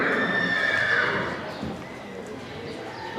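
A horse moves about at close range, with a neigh heard near the start and soft hoof steps as it backs up, against a busy outdoor background.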